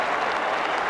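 A huge crowd of Collingwood fans roars continuously at the 1990 AFL Grand Final against Essendon, a dense, loud, steady wall of cheering with no pauses.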